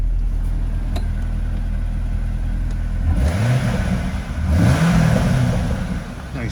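A 2013 Corvette V8 engine idles steadily, then revs up twice with rising, throaty surges before settling back down, heard close by with no talking.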